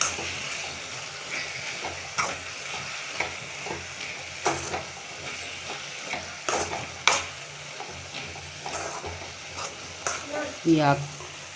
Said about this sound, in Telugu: ఇప్పుడు కొంచెంగా పసుపు వేసుకోవాలి. బాగా ఇలా మిక్స్ చేసుకోవాలి.